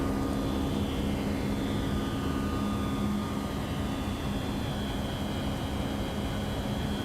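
Rolls-Royce turbofan engines of a FlightFactor Boeing 757 in a flight simulator, a steady loud whine and rushing roar with a sustained high tone holding evenly throughout, no voices.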